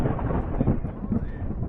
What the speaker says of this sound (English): it's just thunder and lightning and drizzling a little bit